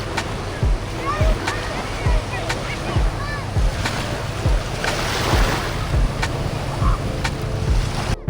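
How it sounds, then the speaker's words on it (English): Ocean waves along the Virginia Beach oceanfront wash in a steady, broad roar, with gusty wind buffeting the microphone and a few periodic thumps; people talk faintly in the background. "We're at the beach."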